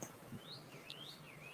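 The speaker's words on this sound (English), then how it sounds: "Can y'all hear the birds chirping?" Light bird chirps and rising tweets drift over a quiet outdoor background, faint and somewhat distant, with no talking.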